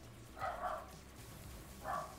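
Two light barks in quick succession, a pause, then one more short bark, all faint and thin with no other sounds around them.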